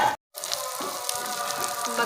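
Chicken fries on a tawa in homemade butter, giving a close, steady sizzle and crackle after a brief cut to silence near the start.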